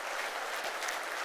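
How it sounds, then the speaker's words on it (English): Audience applause at a business technology conference, a short, steady wash of clapping at moderate distance with no voices over it. "So one big round of applause for him"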